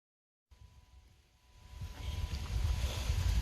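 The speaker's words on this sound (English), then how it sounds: "the wind's still going crazy" Strong night wind outdoors near a bonfire rushes and buffets against the microphone, starting moderate and growing steadily louder and rougher, with no voices.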